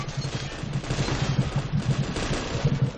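Rapid gunfire fills a rooftop firefight in the video game Payday: The Heist, with a sniper nearby. Dense, loud bursts of shots repeat in a quick rhythm throughout, with no talk over them.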